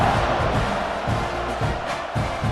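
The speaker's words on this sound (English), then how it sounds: "this crowd is feeling themselves after that last drive" A football stadium crowd at an Auburn Tigers versus Texas A&M Aggies college game roars as one steady, loud wall of cheering and shouting, with no single voice standing out.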